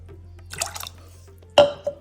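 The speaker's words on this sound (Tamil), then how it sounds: "இதுக்கு வேணுங்கிற தண்ணி சேர்த்துக்கிறேன்" About 300 grams of soaked green peas in a pot with water being added: a short burst of dripping splashes, then a louder single splash and a small drip after a pause.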